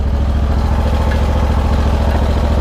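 A Hustler Raptor Limited zero-turn mower engine runs at full throttle, a loud, steady, close mechanical drone with rapid even firing pulses and constant clatter, no voices over it.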